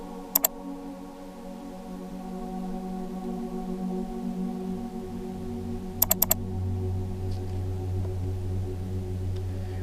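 Two short bursts of quick keystrokes on a computer keyboard, several seconds apart, sound close and crisp over a quiet room hum.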